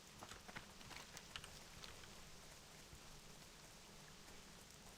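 Steady rain in World of Warcraft, a soft, even patter of raindrops beside a small fireplace, quiet and continuous throughout with no voices.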